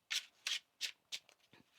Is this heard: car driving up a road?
no